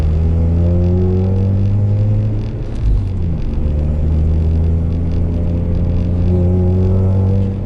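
A Mazda RX-8 with a rotary engine being driven, heard from inside the cabin as a loud, smooth engine hum that dips briefly during a gear change and then climbs again, steady road rumble beneath, no talking.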